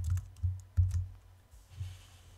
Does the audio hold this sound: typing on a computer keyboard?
yes